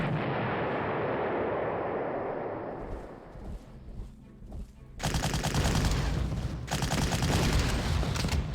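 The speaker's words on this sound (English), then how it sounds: "position my artillery so I can immediately fire shots." Artillery fire in the wartime strategy video game Panzer Corps: a rolling rumble of booms fading out, a quieter gap with scattered thumps, then a louder burst of sharp cracking volleys continuing to the end, no talk.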